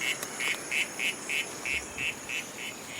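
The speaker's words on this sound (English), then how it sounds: "So we try playing a recording of a real Ufaga lamani." Recorded call of an Ufaga lamani frog played back outdoors, a series of about nine short, evenly spaced nasal quack-like notes roughly every third of a second, moderately loud over a quiet background hiss.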